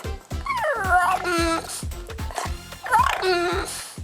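A dog whines in long, wavering, rising-and-falling cries with a speech-like quality, as if saying "mum", broken by short yips, close and fairly loud.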